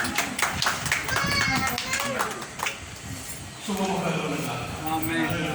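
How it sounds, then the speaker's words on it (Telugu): A church congregation clapping loudly, a quick scattered burst of hand claps near the start, with voices talking over and around it and a song beginning later. "గట్టి చప్పట్లు కొట్టండి"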